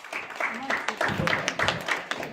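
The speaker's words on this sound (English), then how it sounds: "Give her a round of applause." An audience claps for a volunteer called up to the stage at a kids' success talk, a patter of scattered hand claps at moderate level, mixed with talking voices throughout.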